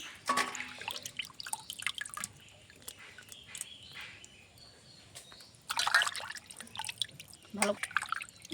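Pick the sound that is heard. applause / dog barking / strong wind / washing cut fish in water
washing cut fish in water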